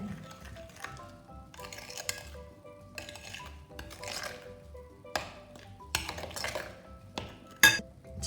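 A utensil stirs desiccated coconut into cake batter for a coconut loaf in a bowl, giving soft scraping strokes with repeated light clinks against the bowl, close and fairly quiet.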